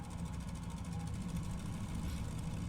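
Three radial engines of a retrofitted Fokker F VII trimotor running together in Flight Simulator 2020, a steady, even drone with a faint rhythmic pulsing and no break throughout.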